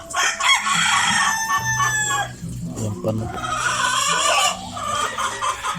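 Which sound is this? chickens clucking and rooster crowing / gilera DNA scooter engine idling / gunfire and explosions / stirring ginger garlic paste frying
chickens clucking and rooster crowing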